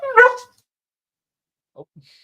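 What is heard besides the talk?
dog barking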